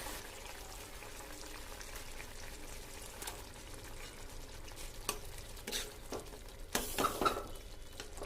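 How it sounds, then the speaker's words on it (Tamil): Brain masala being broken up and stirred in a pan as it cooks, giving a soft, steady scraping and gentle frying sizzle that runs throughout, with a few louder spoon knocks near the end. "நல்லா உடச்சி விட்டு நல்லா கிண்டி வேக வைக்கணும்."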